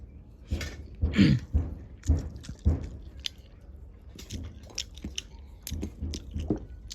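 Close, wet chewing and crunching of chili-fried small shrimp, with irregular bites and squishy mouth sounds spread over several seconds, alone without talk.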